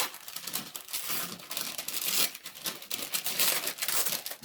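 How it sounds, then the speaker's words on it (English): Paper being crinkled and torn close up during a journaling session, a continuous rustling and crackling with irregular bursts, fairly quiet and alone without talk. "Sorry if you don't like crinkly noises."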